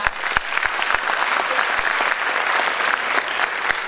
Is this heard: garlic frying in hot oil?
no